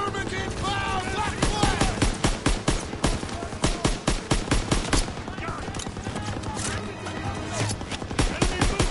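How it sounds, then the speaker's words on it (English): Rapid machine gun fire rattles in dense bursts through a World War II video game battle, sharp repeated reports running almost continuously amid chaotic combat noise, with shouted voices mixed in. "Lay down fire on that MG!"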